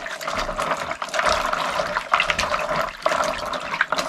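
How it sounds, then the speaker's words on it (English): Running tap water rinses dust off fruit in a steady, continuous splashing stream for the whole stretch, with small surges as the fruit is turned under the flow. "So I'm just going to clean it, rinse it a bit to wash off the dust."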